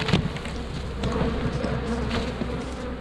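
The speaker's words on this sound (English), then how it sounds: "Some good bees in here." Dense, steady droning hum of many honey bees packed together in a hive, continuous and fairly loud with no pauses.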